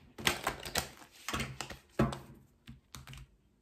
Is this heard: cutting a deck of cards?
yes